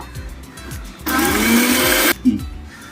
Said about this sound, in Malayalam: നമ്മള് വറുത്ത ഉലുവല്ലേ, അത് ചെറിയ ജാറിലിട്ടിട്ട് നമ്മൾ പൊടിക്കാൻ പോവാട്ടോ